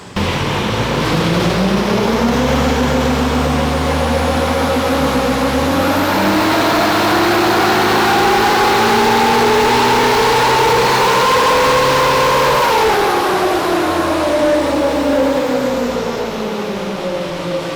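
A swapped engine in a Nissan Patrol revving on a dyno, loud and close, the tone climbing steadily through a long sustained pull before easing off, with constant heavy drone and no talk.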